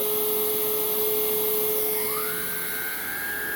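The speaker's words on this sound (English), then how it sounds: "we're gonna try it on this carpet to see if this cordless vacuum does any better than the powered shark" A Hoover React cordless vacuum runs on carpet with a steady high-pitched motor whine, the tone rising slightly partway through as it pushes forward, close and continuous with no talking.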